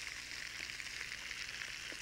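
Chicken pieces browning in hot fat in a pan give a steady, close sizzle and crackle with small pops, continuous throughout with no talking.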